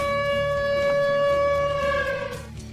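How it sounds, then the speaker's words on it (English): A loud, sustained air raid siren wails on one steady pitch, then fades away toward the end. "Air raid siren."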